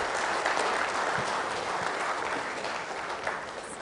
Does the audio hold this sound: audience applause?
yes